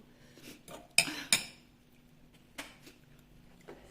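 A sukiyaki hot pot is set down in a home kitchen, giving two sharp metallic clanks close together, followed by lighter clinks of cookware over quiet background.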